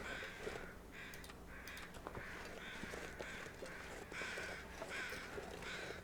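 Crows caw repeatedly near a deer carcass in the winter survival game The Long Dark, as faint, evenly spaced calls over a steady low wind-like hiss.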